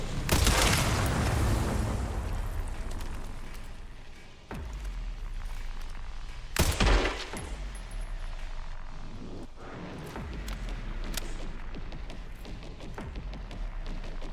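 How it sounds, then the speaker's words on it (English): Mortar fire in the video game Resident Evil 9: a few heavy booms and thuds land at uneven intervals over a steady rumble of battle noise, with no one speaking. "So they're using the mortars."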